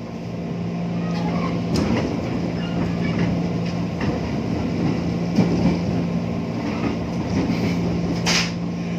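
Commuter train running between Manggarai and Matraman stations in Jakarta, a steady loud rumble of wheels on rail with a low hum and occasional clatter and squeal, continuous throughout.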